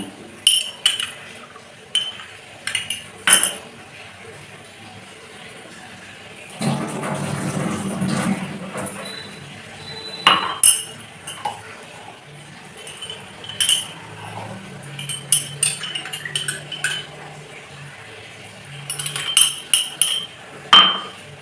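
Kitchen utensils clink and scrape repeatedly while a ground tulsi leaf mixture is strained, with sharp metallic taps at irregular intervals and a short rustling, pouring-like stretch in the middle, all close and fairly loud.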